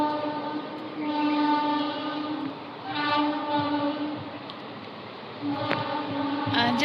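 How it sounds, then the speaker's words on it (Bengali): A train passes with a loud, sustained horn that sounds in several long blasts over the steady rumble of the rail cars, and a sharp click near the end. "আমার ট্রেন যাচ্ছে।"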